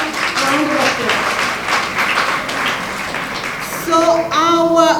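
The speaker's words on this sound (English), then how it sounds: "Please let's give them a" An audience at a second anniversary symposium gives a round of applause welcoming fire service and immigration guests, steady clapping that swells near the end while a voice speaks over it.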